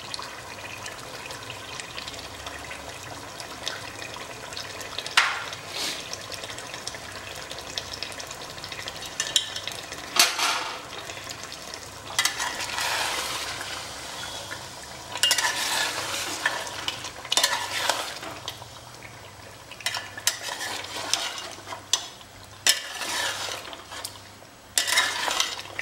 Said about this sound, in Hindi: इस दही में इसको एक बार हम और भून लेते हैं।